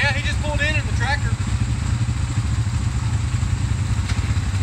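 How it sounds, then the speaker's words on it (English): A tractor engine runs close by at an outdoor mud-riding spot, a loud, steady low rumble that fills the whole stretch while people talk and call out over it. "he just pulled in the tractor"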